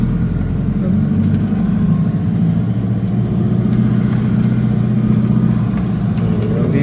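Road traffic with cars and jeepneys on a busy local street, a steady low rumble of idling and moving engines close by, continuous throughout without clear speech.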